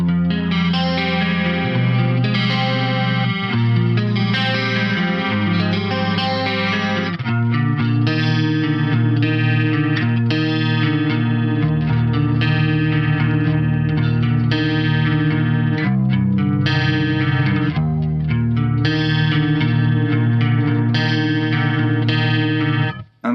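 A 1987–88 ESP Mirage Custom electric guitar on its neck pickup plays a distorted, chorus-tinged passage of sustained chords and riffs, loud and continuous with no talking.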